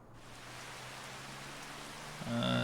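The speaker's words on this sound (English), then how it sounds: "And it's raining." Steady rain hiss falls across a Farming Simulator 25 landscape, a broad continuous wash of drops with a low hum beneath, and a brighter tonal game sound swells in near the end.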